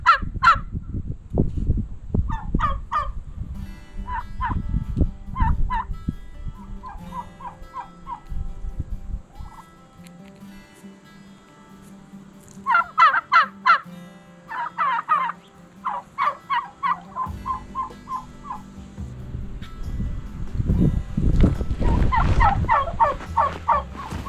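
Turkeys on a farm gobble in repeated bursts of loud, close calls, with several birds chiming in at once and quieter gaps between the outbursts.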